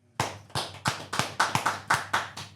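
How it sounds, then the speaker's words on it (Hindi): Audience applause greeting a guest arriving on a Hindi-language business talk show, a run of about ten sharp, evenly spaced claps close to the mic, alone with no talking. "अनुराग अग्रवाल जी का स्वागत करता हूं द पलक माधवानी शो पर तालियों के साथ"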